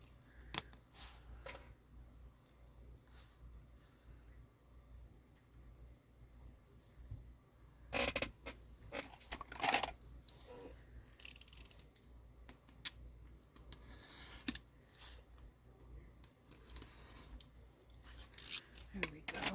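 Scissors cutting paper for a handmade lapbook, scattered snips and crisp rustling slices between quieter stretches, close, with a voice talking at times.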